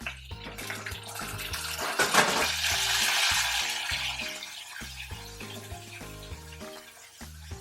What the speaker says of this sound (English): Let those fry in the oil